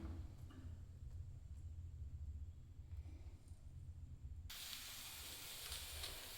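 A pressure cooker cooking khara pongal on a medium flame hums quietly, then bursts into a loud, sustained hissing whistle of escaping steam about two-thirds of the way through.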